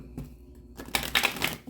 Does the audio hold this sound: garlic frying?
no